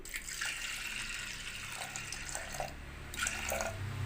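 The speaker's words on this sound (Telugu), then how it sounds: "కొద్దిగా వాటర్ వేసుకుందాం." Water pours steadily into a pot with a continuous splashing rush, close and fairly loud, its tone shifting slightly as the pot fills, a pressure cooker for sambar.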